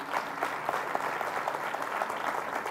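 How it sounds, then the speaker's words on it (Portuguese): An audience at a church business event claps steadily throughout, a dense patter of applause at moderate distance. "Você pode dar um aplauso ao Senhor?"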